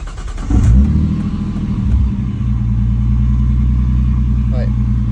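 A Nissan R33 Skyline on a test drive, its engine revving up sharply then settling into a steady loud droning rumble inside the car, continuous and close throughout.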